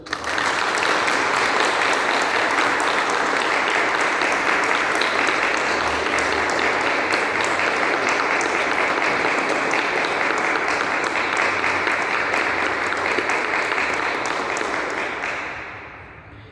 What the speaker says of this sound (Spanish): vamos a ofrecerle al Padre Ildefonso, en signo de nuestra felicitación y congratulación, un fuerte aplauso